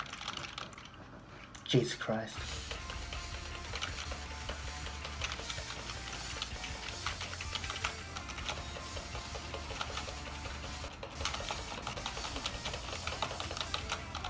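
Computer keyboard keys clattered continuously as rhythm-game input during a Clone Hero session, a dense stream of quick close clicks with a brief exclaimed voice near the start.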